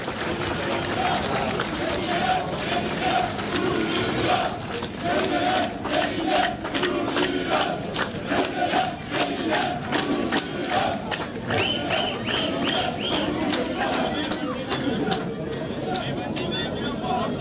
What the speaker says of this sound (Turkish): büyük alkışlarla uğurlamaya başladı